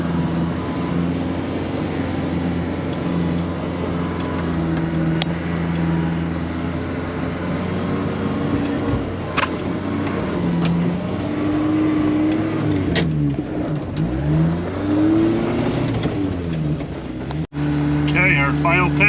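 1987 Suzuki Samurai 1.3 engine with a swapped carburetor, in low range, labouring steadily up a dirt hill, a continuous close droning engine note with pitch sweeps toward the end and a voice talking over it.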